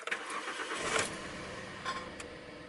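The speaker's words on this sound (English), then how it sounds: "now I start again, and it's second cylinder" A Toyota Camry engine cranks and catches after an ignition coil change, a faint short start rising into a rough idle, heard alone.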